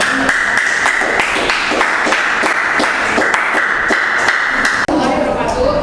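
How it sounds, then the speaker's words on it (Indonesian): Classroom applause for a student group, a steady patter of many hands clapping close by for several seconds, ending abruptly with a short break before room noise returns. "kita beri aplaus buat kelompok lavender"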